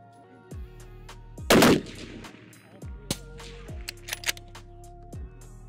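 A single loud, sharp report from a Tikka rifle built for long-range competition cracks out at a shooting range, over steady background music with a few fainter clicks afterward.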